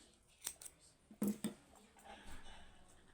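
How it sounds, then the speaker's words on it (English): Scissors snip through crochet yarn with a few quick, close cuts: one sharp snip, then a pair of louder clips in quick succession, followed by soft handling noise. "I cut the yarn"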